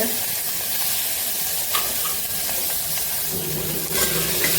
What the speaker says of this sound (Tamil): பருப்பு கொஞ்சம் பொங்கி வருது, இப்படி லைட்டாக திறந்து வச்சுக்கிறேன்